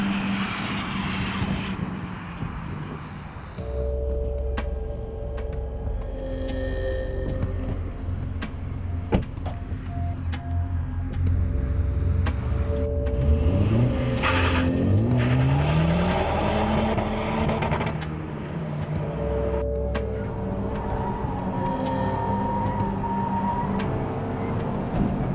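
Engine of a 2016 Honda Civic Type-R at full effort on a hot lap, a loud continuous drone with rising and falling pitch sweeps as it revs through gears, steady throughout with no talk.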